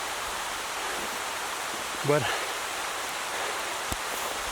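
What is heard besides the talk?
heavy rain falling in a forest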